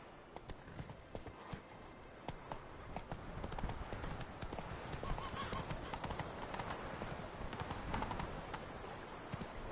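The horse Roach gallops in The Witcher 3, a brisk, continuous clatter of hooves that builds slightly in loudness, with a brief whinny in the mix.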